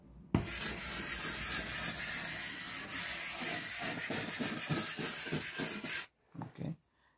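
White bristles are rubbed close up during an ASMR medical exam, giving a steady, dense scratchy brushing that turns into a run of quick rhythmic strokes before stopping, then two short faint brushes.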